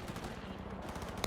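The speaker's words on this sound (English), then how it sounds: "Are people shooting back there?" Rapid automatic gunfire from a firefight in the video game Cyberpunk 2077, a dense continuous burst of shots heard at mid distance, with no speech over it.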